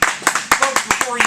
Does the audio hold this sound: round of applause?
yes